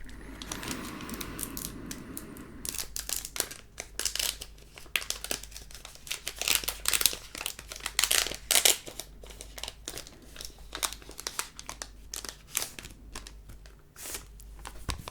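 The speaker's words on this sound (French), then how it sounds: "On va ouvrir le deuxième booster Pokémon Célébration." Crinkly foil wrapper of a Pokémon Celebrations booster pack being torn open and handled, a dense run of close, sharp crackles and rips continuing steadily without talk.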